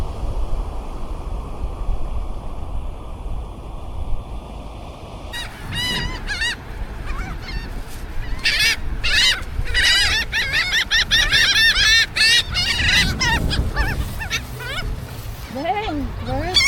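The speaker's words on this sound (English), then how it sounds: "Dang, bird." Geese honk repeatedly and loudly at a seaside spot in Galveston, Texas, a busy overlapping chorus of nasal calls over steady surf and wind, with people talking nearby.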